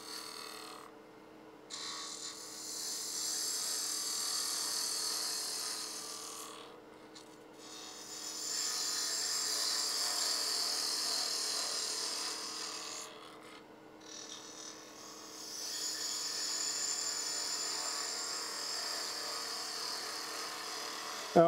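A wood lathe spins while a 3/8 spindle gouge cuts an egg shape, giving a steady hum under repeated swelling passes of a bright scraping hiss, each separated by short quieter gaps.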